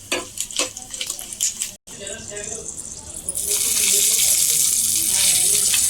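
Light clinks and stirring come first, then a hot tempering of curry leaves is poured onto rice for daddojanam and breaks into a loud, steady sizzling hiss that carries to the end, with a voice talking over it.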